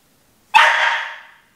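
A dog barks once, sharply and close, at squirrels by the back door, with the bark ringing out briefly before silence.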